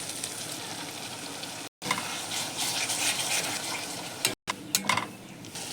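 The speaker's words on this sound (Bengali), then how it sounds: "আমার মশলাটা কষানো হয়ে গেছে" Spice paste with black cumin, tomato, salt, ground cumin and coriander, chilli, turmeric and garlic being stirred and fried in oil for a spicy fish curry, a steady close sizzle with scraping strokes, briefly cut by two short silences.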